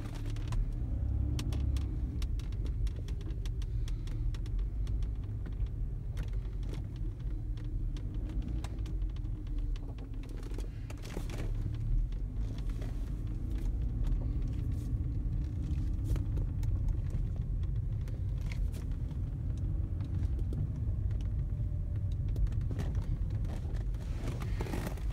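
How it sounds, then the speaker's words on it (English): A 2011 Cadillac CTS Luxury cruising on the highway, heard as a steady low road and engine rumble with tire noise and scattered cabin clicks throughout. "I'll see if I can take it out on the highway for you quick."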